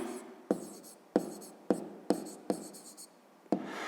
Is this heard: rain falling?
no